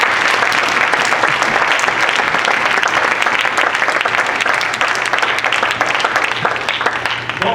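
A church congregation applauding to acclaim the Lord, with loud, continuous clapping from many hands blended with crowd voices, sustained at full volume throughout.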